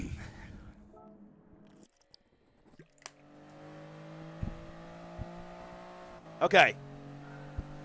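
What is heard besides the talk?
race car engines in Gran Turismo Sport video game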